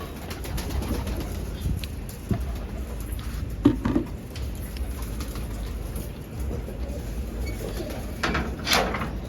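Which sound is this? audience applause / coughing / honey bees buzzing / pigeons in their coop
pigeons in their coop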